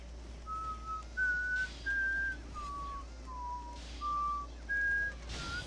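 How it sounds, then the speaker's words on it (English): Someone whistles slowly, a string of long, drawn-out sustained notes that step up and down in pitch one at a time, clear and close, over a low steady background hum. "I'm whistling in slow motion to go along with my gameplay"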